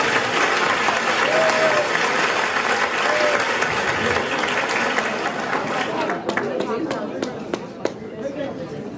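Dense, sustained applause from a large audience at a school graduation ceremony, steady and loud through most of the stretch before thinning into scattered individual claps near the end.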